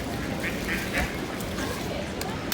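Ducks quack repeatedly at close range as they are fed bread, a steady flurry of calls over outdoor background noise.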